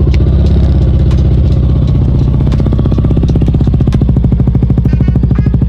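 A Yamaha NMAX V2 scooter with about 47,000 on the odometer, due for an engine refresh, starts and settles into a steady, loud, close-up idle with a rapid, even clattering beat.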